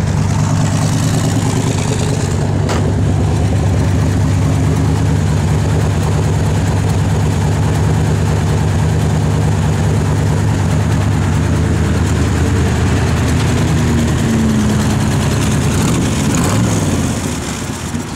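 A 1966 Chevrolet Corvette convertible idles steadily through its side exhaust, a loud, close, continuous low rumble that holds even for the whole stretch with a slight shift near the end.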